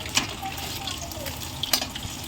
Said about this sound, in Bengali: লাল লাল করে ভেজে নেবো বন্ধুরা ডিমগুলো দেখুন বন্ধুরা ডিমগুলো ভাজা হয়ে গেছে